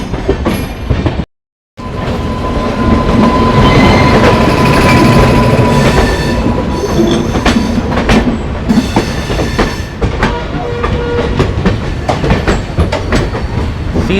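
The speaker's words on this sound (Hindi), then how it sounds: "सीतामढ़ी से चलकर साबरमती जा रही है ट्रेन।" A festival special passenger train from Sitamarhi to Sabarmati passes close by on a double line, loud rolling rumble with rhythmic wheel clatter and occasional squeals, continuous after a brief dropout.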